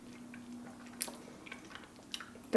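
Close, soft chewing of a bite of crockpot Hawaiian pineapple chicken, with moist squishy mouth sounds and a few small clicks over a quiet background hum.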